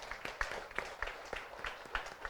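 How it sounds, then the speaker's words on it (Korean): A church congregation applauding during a summer night prayer meeting, a steady patter of light claps spread across the room, fairly faint and without speech. "우리 박수로 격려합니다"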